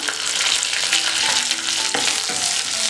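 Crushed cumin, pepper, garlic and dried red chilli paste fries in hot oil, a steady dense sizzle with faint scraping stirs throughout, close and fairly loud with no voices.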